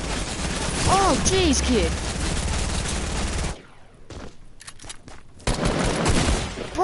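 Rapid gunfire in a video game, a dense continuous burst of shots up close that cuts off midway and then resumes, while someone shouts over it.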